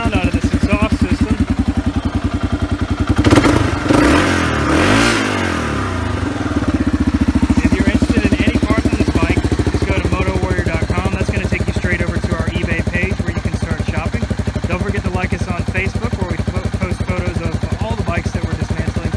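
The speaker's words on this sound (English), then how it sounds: "you actually get a decent little sound out of this exhaust system." A 2009 Kawasaki KLR650 motorcycle engine idles close by with a throaty, pulsing exhaust note, revving up briefly before settling back to a steady idle.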